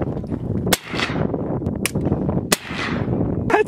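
Gunfire at an outdoor quad-riding outing, with three or four sharp, loud, close-range shots spaced irregularly, each cracking out and then echoing away.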